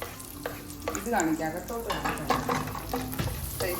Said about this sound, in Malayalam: വെളുത്തുള്ളി ഇട്ട് നല്ല രീതിക്ക് ചിക്കി എടുക്കുക.